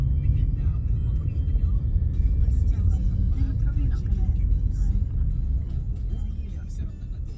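Steady low road rumble of passing traffic in Panagsama, Moalboal, Cebu, Philippines fills the scene, with a car or heavier vehicle droning nearby and faint voices underneath.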